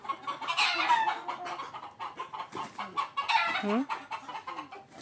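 A brood hen on a farm clucks close by in repeated bursts of throaty, squawking calls, with a louder excited stretch near the start and another shortly after the middle.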